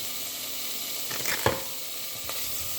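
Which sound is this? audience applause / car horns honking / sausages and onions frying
sausages and onions frying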